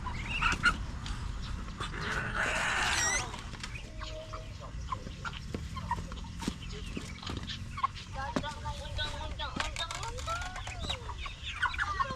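Backyard chickens freshly moved into their coop cluck and call at intervals, with short sharp squawks scattered over a quiet yard while a person talks nearby.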